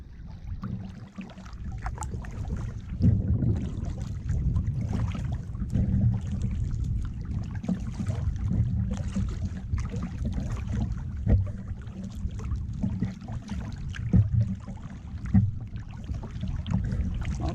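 A kayak moves through calm water around a small island in Rocky Bay, Florida, with gentle, steady paddle splashes and soft water lapping near the boat under light wind.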